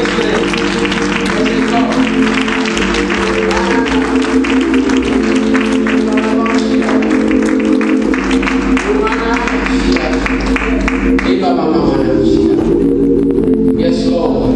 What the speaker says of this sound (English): clap your hands and give God praise today.